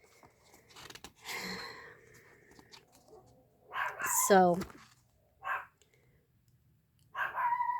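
A pet dog at home gives a few short barks and yips in scattered bursts, moderately near, with quiet pauses between and a person speaking briefly.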